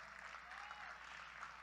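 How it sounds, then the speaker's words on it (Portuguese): A church congregation claps steadily and evenly, faint and somewhat distant, with no one speaking. "As palmas louvam o nome do Senhor Jesus."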